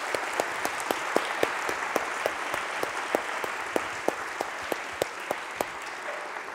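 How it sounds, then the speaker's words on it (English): Steady audience applause for a panel of scientists at a science theater event, dense and sustained with sharp clap transients throughout, fairly close and without speech. "Let's round of applause for these guys."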